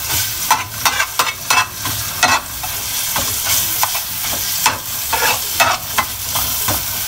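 Garlic sizzling steadily in a hot pan for Filipino squid adobo, a continuous close frying hiss broken by regular scraping stirs of a utensil against the pan, with no talking.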